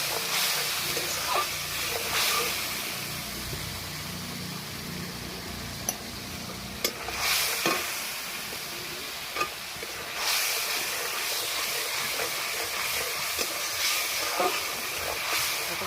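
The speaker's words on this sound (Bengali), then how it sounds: "এটাকে কষাচ্ছি।" Spices being sautéed in a pan with a little water, a continuous close hiss and sizzle with occasional sharp clinks and scrapes of stirring, no one speaking.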